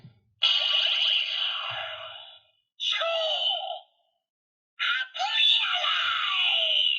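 Appmon chip toy emitting harsh electronic screaming sounds, three loud shrill bursts, a long one, a shorter one, then another long cry, separated by brief silences and heard up close.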